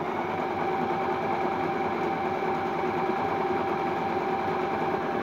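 A Singer Tradition sewing machine runs steadily at close range, stitching a wavy zigzag pattern with a continuous fast mechanical whir and hum that holds for the whole stretch, with no talking.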